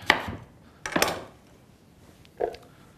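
Fruit being chopped through on a cutting board while making a raw superfood soup: two sharp knife strikes close together, then a softer third cut after a pause, close and fairly quiet.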